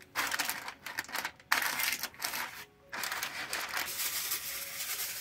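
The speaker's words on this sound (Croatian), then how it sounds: "Sad ću još ovako da stavim pet papir." Baking paper pressed over beef in a roasting tray, a close, loud crinkling and rustling with brief pauses, heard on its own.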